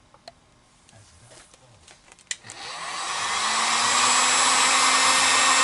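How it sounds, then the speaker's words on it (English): A heat gun switches on partway through and blows a steady, loud rushing whoosh while shrinking heat-shrink tubing onto a wire for a 1/24 scale resin TIE Advanced X-1 kit; a few light clicks and taps come before it starts. "So now I have to heat shrink it. So I'm going to use a heat gun."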